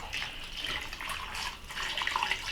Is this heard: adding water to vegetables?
yes